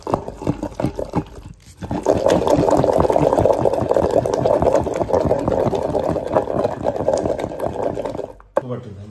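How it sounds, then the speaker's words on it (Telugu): Tempering spices hit hot oil for a ridge gourd and tomato chutney, bursting into a loud, dense, crackling sizzle that holds steady for several seconds, then cuts off abruptly. "సో ఇప్పుడైతే తాలింపు వేసేద్దామండి."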